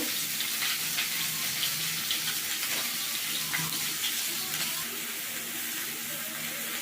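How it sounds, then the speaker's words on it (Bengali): Vegetables, including pointed gourd, fry in oil in a pan in a village kitchen. A steady, close sizzle runs throughout with no breaks, and no one talks. "বেশ কিছুক্ষণ ধরে সবজিগুলো ভেজে নিয়েছি"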